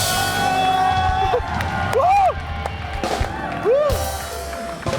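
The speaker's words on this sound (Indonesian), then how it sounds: "Tepuk tangan buat tuh." A TV variety-show studio audience claps and cheers, with rising whoops and shouts breaking through the crowd noise and voices talking over it.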